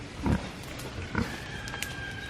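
Pigs grunting in a wooded pen, two short low grunt bursts standing out near the start and middle over a steady background hum, fairly close to the listener.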